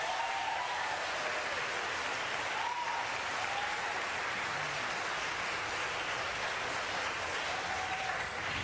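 Applause from the audience at a Los Angeles city council meeting, a steady, fairly faint and distant patter of many hands clapping throughout.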